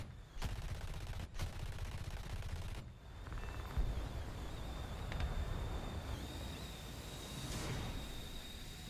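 Aircraft guns firing in War Thunder: three sharp, sustained bursts at the start, then continuous loud roaring gunfire over engine drone through the rest.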